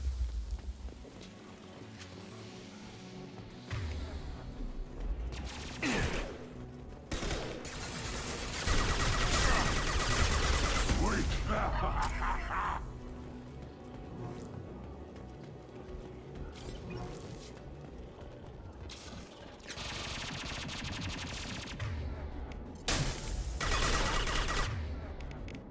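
Rapid bursts of gunfire from Mass Effect 2 combat crackle in loud clustered volleys, the heaviest run midway and another near the end, over a steady wash of game ambience.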